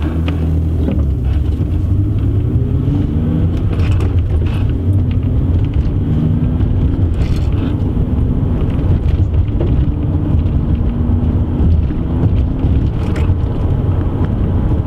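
Inside a BMW E90 with all windows closed and the stock exhaust, a steady, loud, low engine and exhaust drone mixes with road and wind rumble as the car drives, with gear shifts audible and no talking.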